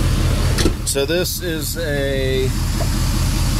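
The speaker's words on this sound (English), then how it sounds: "let me show you guys real quick the truck while it's running" A Ford F350 XL with a 6.7 Powerstroke diesel, lifted on 37-inch tires and suspected of blown head gaskets, idles with a steady low rumble under a man's close speech.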